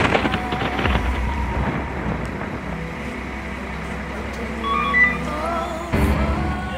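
A ski-patrol avalanche-control explosion at the Isola ski area: a deep, distant rumbling boom that swells and rolls on for several seconds over steady wind noise, with no voices.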